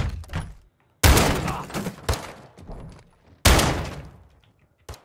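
Loud, sharp gunfire bursts from Call of Duty Modern Warfare II, in three or four separate blasts with brief silences between them and fading tails after each.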